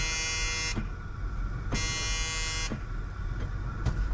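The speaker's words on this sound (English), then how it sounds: "Great, the seatbelt buzzer started working." A seatbelt warning buzzer in an old Oldsmobile, abandoned for 23 years, sounds steadily with a tonal buzz, broken by brief clicks roughly every second.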